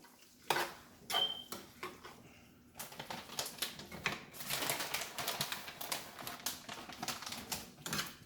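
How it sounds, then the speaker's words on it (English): A spoon stirs cheese into pasta in a cooking pot, making irregular clinks and scraping knocks against the metal, close by with clusters of louder strikes. "I'm gonna go ahead and stir the cheese in this."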